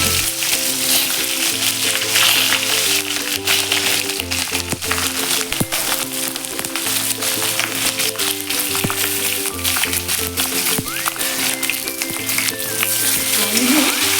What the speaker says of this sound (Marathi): तेलावरती आपण वर वरखाली करून परतून घेऊया